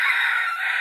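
A junglefowl hen used as a decoy gives a short, bright, sustained call, one clear note under a second, loud and near.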